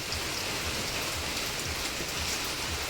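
Steady, dense rain pours down, a constant hiss of drops striking surfaces close by with no voices.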